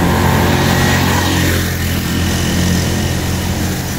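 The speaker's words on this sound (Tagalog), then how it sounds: "Ingay ng sasakyan." Steady, loud engine rumble from vehicles passing on a road in Bataan, a continuous broadband roar that swells slightly and fades without pause, with no voices over it.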